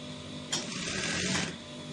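A sewing machine stitches a folded fabric edge on an agbada, a short one-second burst of motor whirr that rises out of a quiet room hum and then stops.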